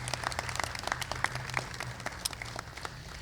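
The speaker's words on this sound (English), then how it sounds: "Let's just have a round of applause for them as we remember them" An audience at a town ceremonial swearing-in claps for armed services members, with distinct individual claps standing out over a steady crowd applause and a low hum underneath.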